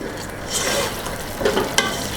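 Chicken karahi masala with garlic and ginger fries and is stirred over raised heat, giving a steady soft sizzle with scraping stirs that swell briefly near the middle and end.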